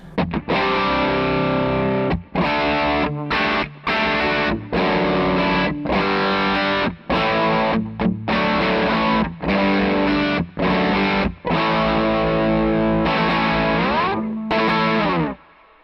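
A bass runs through a Jānis Lv Miesnieks overdrive pedal and plays a choppy riff of loud, gritty, distorted notes, each phrase cut off by a brief silence, with no talking.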